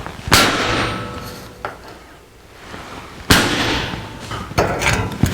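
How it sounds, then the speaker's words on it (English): Center punch marks hammered into a firewall sheet-metal panel for a 1949 Chevrolet gasser: three sharp metallic strikes, close and loud, spaced a second or more apart, with shop noise between. "A couple of punch marks."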